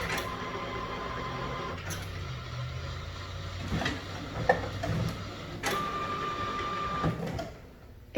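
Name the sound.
inkjet printer turning on and starting up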